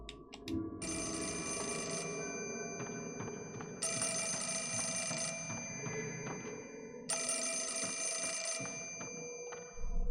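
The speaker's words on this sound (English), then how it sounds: "Phone going off." A telephone rings in Project Zero 4: Mask of the Lunar Eclipse, with three long, loud ringing bursts separated by short gaps over a steady background of ambient game sound.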